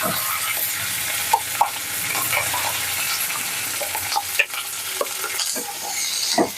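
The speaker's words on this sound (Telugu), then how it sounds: "ఈ కంది పచ్చడి పోపులో కలిపేసుకోవాలి" Toor dal chutney is stirred into a sizzling tempering with curry leaves, giving a steady oily crackle with scraping stir strokes and occasional sharp pops, close and alone.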